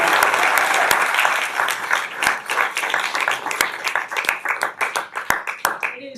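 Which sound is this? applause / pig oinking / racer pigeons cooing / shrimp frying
applause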